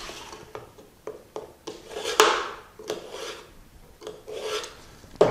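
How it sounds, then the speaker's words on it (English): A kitchen knife is sharpened with a series of short rasping strokes, each a scraping rub repeated in an uneven rhythm. The sound is close and fairly quiet. "So I'll sharpen our knife."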